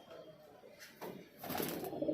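Faint, low coos come from highflyer pigeons inside a loft, quiet at the start and growing a little louder and busier toward the end.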